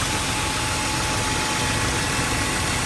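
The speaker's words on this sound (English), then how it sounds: "Oh, the engine doesn't sound too bad at all." A BMW E36 328i with a five-speed gearbox idles steadily nearby, running on a borrowed battery; its low, even rumble holds on its own throughout, with a broadband hiss over it and no talking.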